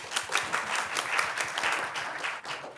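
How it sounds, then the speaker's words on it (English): Audience applause at a women-in-transport technology panel, a steady, moderately soft wash of many hands clapping for a few seconds without speech. "Clap for you as well."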